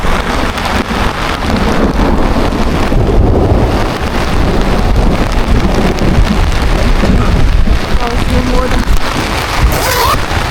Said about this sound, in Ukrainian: гримить, блимає.